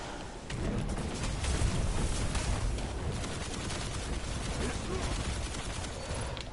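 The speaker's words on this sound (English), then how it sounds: "you get destroyed with a machine gun" Machine gun fire from the video game Destiny roars in a dense, continuous stream, loud and steady throughout, with a voice talking over it.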